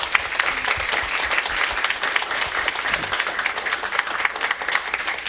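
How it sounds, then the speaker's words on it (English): An audience at a talk on the history of the Laguna Beach Fire Department claps after the program, a dense, even wash of applause that holds steady throughout, close and lively. "let's give a big round of applause for a great program"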